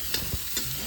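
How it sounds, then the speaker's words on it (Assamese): Onions frying and being stirred in a pan at a night campsite, with a continuous hiss of sizzling oil and a few quick scraping knocks of the spatula, close by and without speech. "এফালে ভাজি আছে শুক্ৰান দাই পিঁয়াজ"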